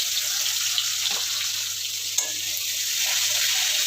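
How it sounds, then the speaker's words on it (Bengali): Onions hitting hot oil in a pan while cooking a bhola fish curry with potatoes: a loud, steady, close frying hiss throughout, broken by a couple of faint clicks, with no voices. "পেঁয়াজ দিয়ে দেবো।"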